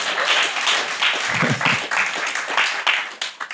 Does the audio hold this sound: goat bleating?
no